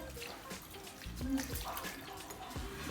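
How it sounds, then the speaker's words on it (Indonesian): Water runs and trickles steadily from a tap, with soft splashing and small bursts as hands move through the stream. "Kemudian basahi tangan dengan air mengalir."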